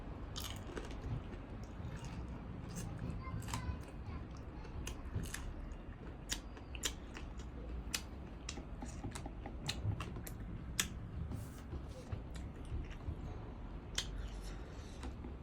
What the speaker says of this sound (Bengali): আজকে গাছে কাঁচা লঙ্কা খাবো, দেখি কেমন ঝাল